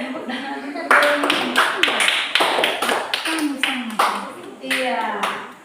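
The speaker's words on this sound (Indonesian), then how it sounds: "Oke, tepuk tangan untuk Doni" Third-grade classmates clap for a pupil named Doni after his story, a burst of scattered, uneven hand claps close by, with children's voices talking over them.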